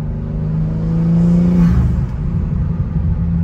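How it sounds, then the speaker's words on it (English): A BMW G80 M3/M4 fitted with aftermarket ARM Motorsports intakes lets out a turbo blow-off whoosh over a low engine rumble as the revs drop, the whole sound loud and close. "Dude, the blow off is so sick."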